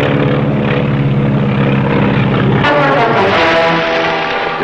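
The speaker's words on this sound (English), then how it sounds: "Plane peeling off." A propeller plane drones loudly and steadily overhead, its engine tone shifting partway through as the aircraft peels off, with no other sounds competing.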